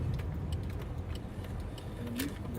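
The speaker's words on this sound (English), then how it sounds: "Okay, I'm parking my car." Car being parked, a low steady engine rumble with faint rattles and jingles from inside the cabin, close and continuous, with no talking.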